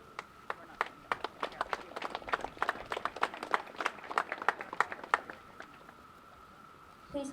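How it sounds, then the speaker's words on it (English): Thin, scattered applause from a small audience at a fifth-grade elementary school graduation: a few people clapping unevenly at first, building to a modest burst of claps, then fading to quiet with a faint tone. "Please hold your applause till the end"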